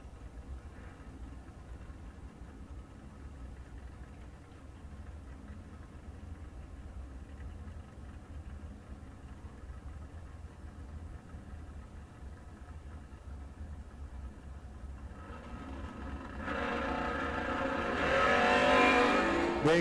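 Door cars idle steadily on the drag strip for a long stretch, then near the end a loud, broadband launch roar swells and builds as the cars leave the line, with no talk.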